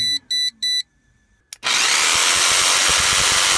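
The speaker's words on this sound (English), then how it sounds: "I'm going to plug in the jigsaw, and I'm going to utilize the jigsaw" A jigsaw powered from a van's solar setup starts after a few short electronic beeps and then runs steadily, a loud continuous buzzing whine at close range.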